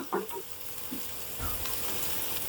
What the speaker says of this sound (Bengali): পেঁয়াজ এবং রসুন এবার একসাথে আবারও ভালো করে ভেজে নিচ্ছি।